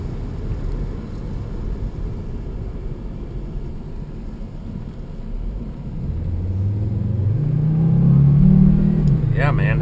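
A Volvo S60 2.5T turbo car's engine rumbles low and steady, then swells as it accelerates with a rising droning note near the end, heard from inside the car.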